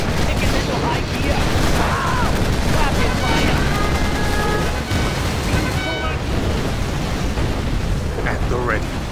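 Rapid gunfire from Command and Conquer Generals Zero Hour rattles continuously and loudly under a dense wash of battle noise, with brief unit voice chirps mixed in.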